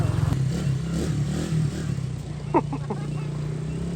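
A dirt bike engine runs with a steady low drone and rises briefly in a rev near the end, heard at moderate distance under people talking.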